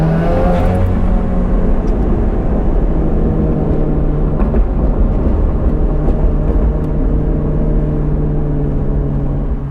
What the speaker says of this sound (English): Gotta love these canyon walls that really echo the exhaust sound.